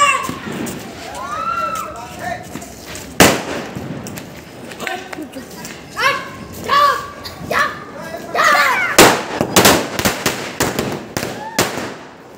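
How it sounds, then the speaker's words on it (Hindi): Firecrackers burst during Diwali celebrations outdoors, with sharp, loud bangs scattered through the stretch amid lively children's voices and chatter. "ये लोग काफी ज्यादा पड़ाका फोड़ रहे हैं भाई, पूरा एकदम।"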